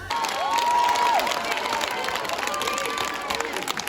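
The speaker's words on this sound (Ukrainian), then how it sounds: "В залі шалені аплодисменти" A concert hall audience applauds loudly and steadily, dense clapping mixed with cheering filling the room throughout.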